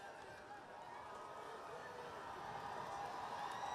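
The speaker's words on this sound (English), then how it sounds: "Crowd gets into it on 3rd and long" A stadium crowd roars and cheers on a third-and-long play in the NCAA Football 2025 video game, Bethune-Cookman at Florida International, a steady broad swelling roar that builds gradually.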